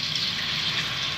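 Water is poured into a pot of simmering goat caldereta, giving a brief, steady splashing hiss with no voices.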